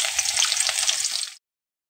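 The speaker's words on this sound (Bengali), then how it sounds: "পেঁয়াজ লঙ্কাটাকে ভালো করে এদিকে ভেজে নিচ্ছি।" Chopped onion and green chilies sizzle and crackle in hot oil in a pan: a steady, close, dense frying hiss with light popping that cuts off abruptly after about a second and a half.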